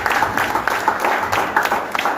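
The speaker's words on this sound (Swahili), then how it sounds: "Tumpigie makofi mazuri." A church congregation claps and applauds during a service at an IPCA parish in Kahawa, the dense, steady clapping filling the room with a few voices mixed in.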